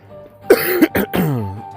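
Someone coughs sharply several times in quick succession, close and loud, during an escape room puzzle walkthrough, the fit ending in a drawn-out rasping breath.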